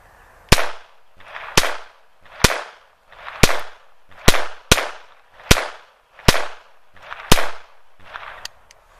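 A Taurus .22 pistol fires a 16-round magazine outdoors, with about a dozen loud, sharp reports spaced under a second apart. Each shot leaves a short echoing tail, and the firing stops after the last round.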